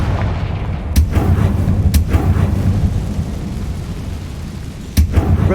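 Confringo blasting spells go off in Hogwarts Legacy, three sharp booming explosions, one each near the first, second and fifth seconds, over a low rumbling game background.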